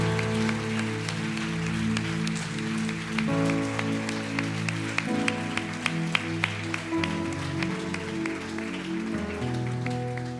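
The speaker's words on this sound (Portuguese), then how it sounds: "Aplauda Jesus mais uma vez." Church congregation applauding during a worship service, steady clapping set against sustained organ or keyboard chords that change pitch.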